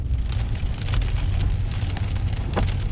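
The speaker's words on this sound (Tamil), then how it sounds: "இப்போ வந்து ஓரளவு மழை பெஞ்சுக்கிட்டு இருக்கு" Steady rain falling and pattering on surfaces, a dense continuous hiss with scattered drips and a low rumble underneath.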